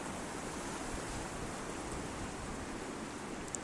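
A river runs by a broken-down dam in a steady, dense rush of water noise, even and unbroken for a few seconds.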